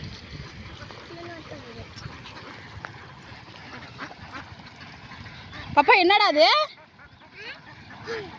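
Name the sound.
ducks quacking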